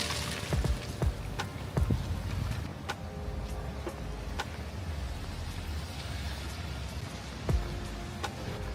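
Steady rain falling on surfaces outdoors in Miami, a dense continuous patter with scattered sharper drips and knocks, fairly close and even throughout.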